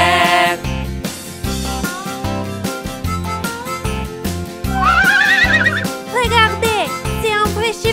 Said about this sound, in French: Le vieux cheval fait ney, ney, ney.